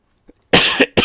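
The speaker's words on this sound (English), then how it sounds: "Let me get a cough here." A single loud, close cough, a harsh burst followed by a shorter second hack, after a brief small throat sound in an otherwise quiet setting.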